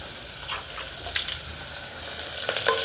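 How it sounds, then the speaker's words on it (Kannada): Chopped tomato sizzles steadily in a hot pan while hotel-style aloo saagu, a potato curry served with poori, is cooked, with a few faint clinks over the continuous hiss. "ಇದಕ್ಕೆ ಇವಾಗ ನಾನು ಸಣ್ಣದಾಗಿ ಕಟ್ ಮಾಡ್ಕೊಂಡಿದ್ನಲ್ವ ಟೊಮೆಟೊ ಹಾಕ್ತಾಯಿದ್ದೀನಿ."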